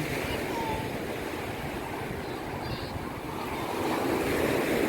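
Waves wash steadily onto a white-sand beach at Lhoknga in Aceh, a continuous broadband roar of surf mixed with wind noise and no break in it.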